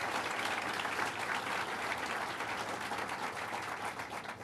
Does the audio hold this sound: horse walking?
no